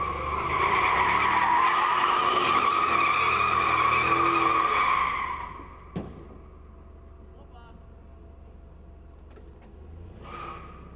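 Truck doing a one-wheel-peel burnout, tires squealing and skidding loudly for about five seconds before cutting off, followed by quieter ambient noise and people talking.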